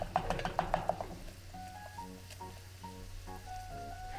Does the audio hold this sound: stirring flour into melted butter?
yes